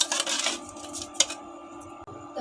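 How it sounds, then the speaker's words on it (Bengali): Sugar is stirred in a pot, with light metallic scraping and clinks of a spoon against the pot, close and fairly steady, with one sharper clink partway through. "ভালো করে নেড়ে দিলাম আমি।"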